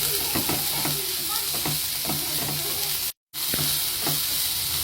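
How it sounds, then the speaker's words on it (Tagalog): Meat sautéing in a pan with ginger, onion and garlic, sizzling steadily while a utensil stirs and scrapes in loose repeated strokes; the sound drops out for a split second near the end, with no voices. "nilagay ko na yung luya, sibuyas. At nilagay ko na rin yung bawang. At pag halu-haluin lang muna"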